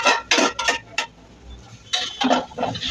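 A spoon clinks and scrapes against a tava pan while rice pulav is stirred, several sharp metallic knocks in quick bursts with a pause in between, close and fairly loud.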